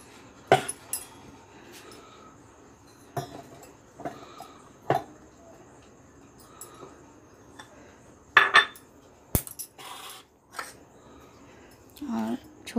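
Chopped, peeled raw mango pieces are dropped into a kitchen mixer jar, giving scattered clinks, taps and small thuds of fruit and utensil against the jar, faint and close in a quiet kitchen.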